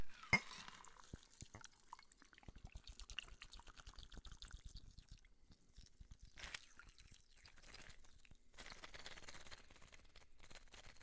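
A drink with syrup is poured into a glass, giving faint, quiet trickling and dripping with small clinks and crackles over about eleven seconds, with no voices.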